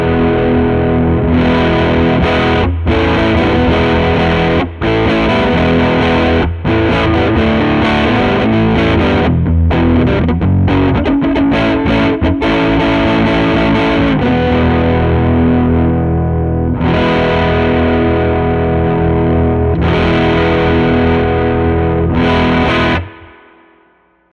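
Electric guitar played through a Klon-style overdrive pedal with its bass boost switched on and gain set below noon, a loud, continuous stream of driven chords and notes with brief gaps, alone without talk.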